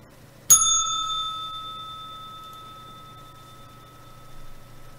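A single bright bell strike rings out sharply and then decays slowly, its clear metallic tones lingering for several seconds over a faint background hum.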